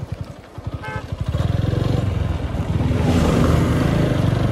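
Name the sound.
TVS motorcycle engine revving at top speed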